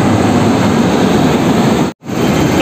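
A WAP 7 electric locomotive from the Kanpur shed heads the Lichchhavi Express, a loud, close, steady roar of engine and blower noise that cuts out for a moment before resuming.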